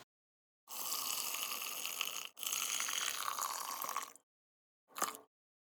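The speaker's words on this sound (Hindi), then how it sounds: "इस मिश्रण को हमने 5 मिनट्स तक बीच बीच में हिला लिया है और अब हम इसे छान लेंगे।" Heated mozzarella curd mixture, warmed to 71°C, is poured into a strainer as the whey drains off: two long, steady splashing pours, then a brief final splash, with no talking.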